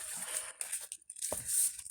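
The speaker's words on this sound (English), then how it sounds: "We'll do one more quick shuffle." A deck of tarot cards is shuffled quickly, with soft papery riffling and crinkling in two short bursts split by a brief pause.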